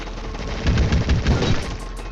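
Rapid bursts of gunfire in the Roblox game Fight Gun crackle over a steady low rumble, with several sharp volleys clustered in the middle and a few bright hits near the end.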